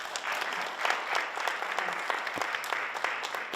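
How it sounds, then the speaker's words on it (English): Enthusiastic applause from a crowd at a fair housing listening session, dense and continuous clapping for a few seconds. "can we give her another round of applause?"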